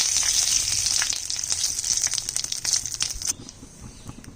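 Cumin seeds, bay leaf and dried chilies splutter in hot oil for a home-style mutton curry, a loud, dense sizzle that eases noticeably after about three seconds and continues more quietly.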